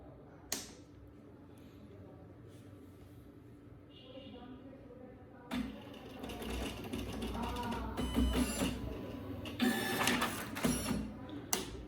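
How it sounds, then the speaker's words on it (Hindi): An Epson PLQ-30 passbook printer runs a print job with a dense, rattling mechanical chatter that starts partway through and grows louder. Earlier there are a few faint clicks and quieter mechanism noise. "देखिए प्रिंट यहाँ पे हो रहा है।"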